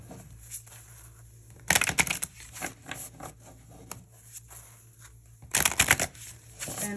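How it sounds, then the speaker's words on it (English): Tarot cards shuffled by hand in two quick, crisp riffling bursts, with softer handling and card-pulling sounds in between, close and fairly quiet. "So let's pull some more cards."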